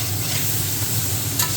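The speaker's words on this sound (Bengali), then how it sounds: "মিশিয়ে হালকা ভাজি করে নামিয়ে নেব।" Ridge gourd is stirred and lightly fried with salt and turmeric, giving a steady close sizzle with a scraping stir and one sharp clink near the end.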